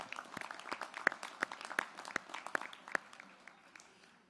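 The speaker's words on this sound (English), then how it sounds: "let's give Al a round of applause" Sparse, faint applause from an audience at an awards luncheon, a few distinct sharp claps standing out over a soft scattered patter that thins out toward the end.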